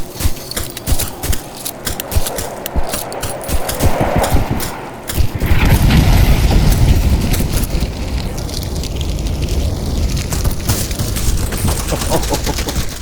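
Explosions and crackling fire rumble from an airstrike in a Vietnam war shooter game, a dense, loud, continuous roar with deep booms building after a brief dip and staying heavy to the end.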